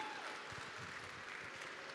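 A live audience at a televised folk music event in a Sardinian village square applauds a performer, a faint, distant wash of clapping heard briefly and evenly, with no talk over it.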